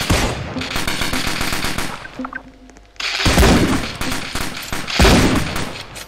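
Powerful sniper rifle shots ring out in a Roblox horror game, a few heavy booming blasts spaced a couple of seconds apart, each loud and close with a long decaying tail, over continuous rapid game clatter.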